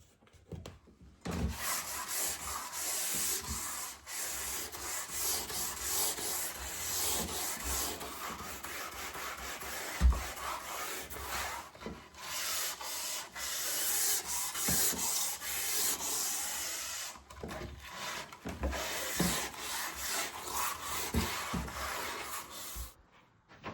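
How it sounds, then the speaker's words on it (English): A large power sander rubs down a badly plastered wall, a steady close abrasive hiss with brief gaps and knocks as the pad shifts, heard alone without talk. "It's all had a good old blast with that big sander."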